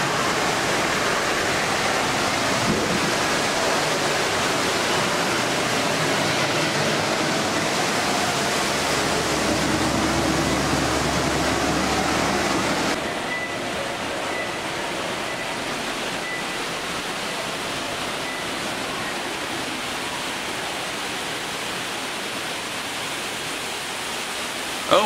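Water in a sea cave exhibit at the COSI museum in Columbus, Ohio makes a steady rushing wash like surf or a waterfall, continuous and fairly loud, dropping slightly in level partway through.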